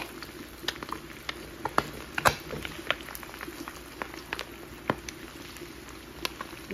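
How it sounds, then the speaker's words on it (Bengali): Eggs sizzle and spatter in a frying pan while being flipped, a steady crackling hiss dotted with sharp pops and small bursts, heard fairly close and alone without talk. "আমি এখন ডিমগুলি উল্টিয়ে দেব"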